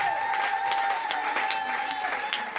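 A church congregation claps for the Lord, a dense, continuous wash of applause from many hands while a voice carries on over it.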